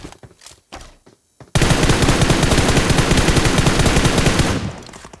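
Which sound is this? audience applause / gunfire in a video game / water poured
gunfire in a video game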